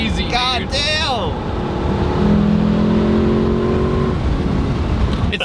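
A Lexus LC500 pulls hard at full throttle, its engine note climbing and holding steady in a loud, continuous surge, heard from inside the cabin under a voice speaking at the start.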